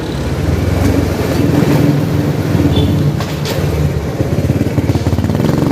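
A motorcycle engine drones steadily and loudly up close as the rider climbs a steep elevated skyway ramp, a continuous rumble with no voices over it.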